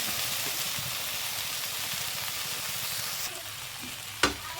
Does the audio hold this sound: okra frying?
yes